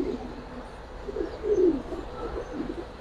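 A pair of home-kept giribaz pigeons coo softly with low, murmuring calls that swell and fade over a few seconds, faint and without any talking.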